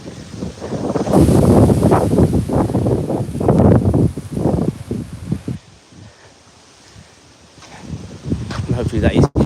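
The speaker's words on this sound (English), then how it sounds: "But as you can see, it's just so windy." Heavy wind buffeting the microphone in loud low rumbling gusts, easing briefly midway before returning, with someone talking under it.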